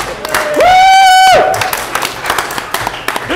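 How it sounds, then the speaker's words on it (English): Applause for David Haye at a press conference: a long, piercing whistle from the crowd, then scattered clapping and cheering that continues to the end. "applause for Mr. Haye for turning up to the press conference"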